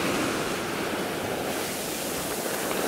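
Sea waves wash onto a beach in a steady, broad roar of surf mixed with wind, moderately loud and continuous, with no voices.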